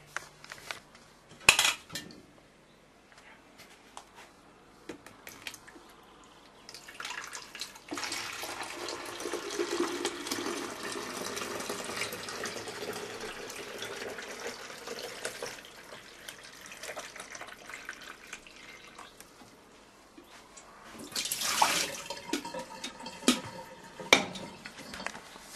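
Kitchen tap running water during a morning coffee routine, a soft steady stream in the middle section framed by sharp clinks of cutlery and dishes before and after, close by with no talk.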